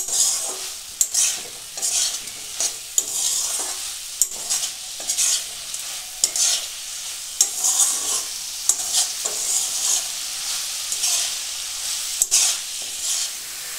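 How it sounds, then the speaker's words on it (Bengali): Banana flower frying in ghee with bori, stirred steadily in a pan: a continuous bright sizzle broken by regular scraping strokes of the spatula, close and clear with no talk. "এবার বড়ি আর এই ঘি দিয়ে ভালো করে এটাকে আমি নেড়ে নেব।"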